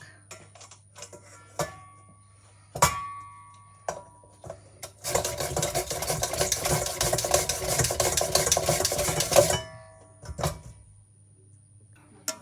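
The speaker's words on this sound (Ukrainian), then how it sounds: "Ось кілограм моркви ми змололи." Carrots being machine-grated into long noodle-like strips for Korean carrot salad, a dense, loud grinding burst lasting about four seconds, framed by scattered kitchen knocks and clicks before and after.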